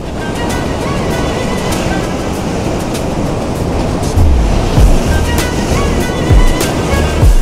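Rough sea during a shore fishing trip between storms: loud, continuous surf roars and churns close by, with heavier surges of breaking water rolling in toward the end.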